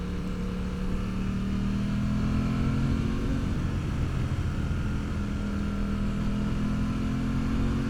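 A 2026 Aprilia Tuono 660 Factory motorcycle engine drones steadily at moderate distance, its pitch climbing and settling as it revs, with no voices.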